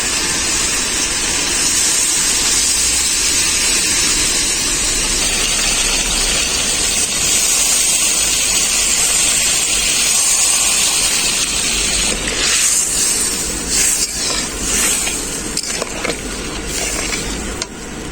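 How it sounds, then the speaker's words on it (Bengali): Spice-rinse water poured into a hot pan of frying Bhola fish curry with potatoes, a loud, sustained sizzling hiss that stays steady before settling into uneven bubbling. "এখন মশলা ধোয়া জলটাও দিয়ে দেবো এর মধ্যে"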